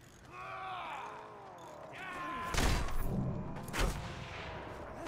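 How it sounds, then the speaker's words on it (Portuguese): Sniper rifle shots ring out in the Mad Max video game, two heavy blasts a second or so apart, each cutting through a mechanical whine and a groaning engine drone. "tem um sniper dando um tiro na gente"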